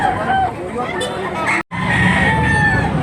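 A young rooster (stag) with white legs crows loudly and close by, one long call with a brief break midway, while people talk in the background.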